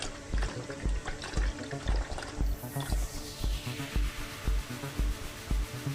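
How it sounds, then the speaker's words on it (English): Homemade amla gooseberry wine poured slowly into a bottle, a continuous close gurgling splash of liquid filling the glass, with a faint steady underlying rhythm and no talk. "Slowly we pour the wine into the bottle."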